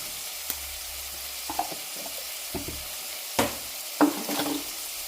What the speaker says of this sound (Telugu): అల్లం పేస్ట్ వేస్తున్నాను